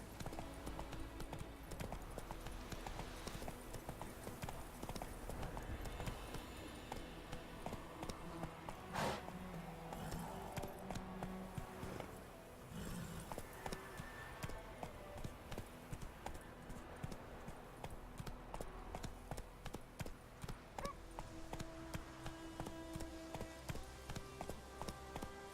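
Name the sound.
horse galloping, clip-clop hooves in video game Witcher 3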